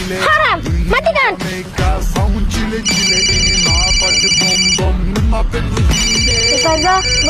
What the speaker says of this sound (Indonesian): Ustazah, boleh nggak aku angkat telepon Ustazah?